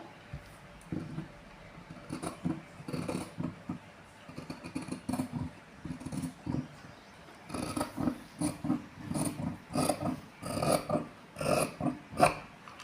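Scissors snipping around the neckline of blouse fabric during tailoring, giving a steady series of close, dry rasping cuts in irregular bursts that grow louder and more frequent toward the end.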